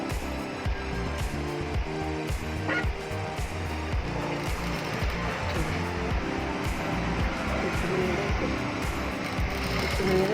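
Sewing machine stitching along the existing seam of a lining piece, joining two layers; a steady, close mechanical rattle runs continuously throughout with no talking.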